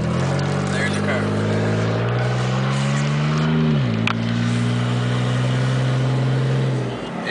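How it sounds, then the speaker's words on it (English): Car passing on a blind corner on a rural road, its engine note climbing then dipping as it goes by close, under a steady engine hum from the listener's own vehicle. "There's the car."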